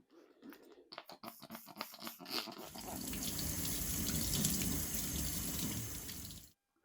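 A K&N air filter from a Yamaha R1 superbike restoration is rinsed under low-pressure tap water: a few clattering knocks first, then a steady, close gushing stream of water that runs for several seconds and stops abruptly.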